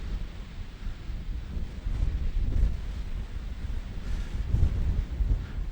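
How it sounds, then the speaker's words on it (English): Strong gusting wind buffets the microphone beside the old Surrey Quays docks in London, a loud, rumbling low roar that swells and surges in uneven bursts with no voices. "there's a lot of wind now, guys. There's lots of wind hitting me."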